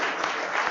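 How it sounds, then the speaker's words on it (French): Audience applause at a French tech conference talk on Google Cloud Dataflow, a brief, dense burst of steady clapping from a full room, loud and even throughout. "On peut l'applaudir."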